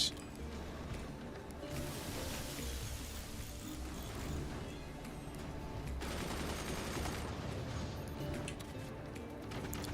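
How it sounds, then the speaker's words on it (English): Machine gun fire in the strategy game Forts, a steady stream of rapid, fairly quiet shots running throughout, with two denser bursts of rattling fire partway through. "machine gunner earning its pay"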